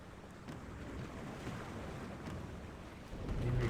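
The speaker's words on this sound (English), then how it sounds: "The storm is closing in." Stormy sea from the video game The Longest Journey, a steady broadband roar of waves and gusting wind at sea, continuous throughout and swelling louder near the end, with no voices.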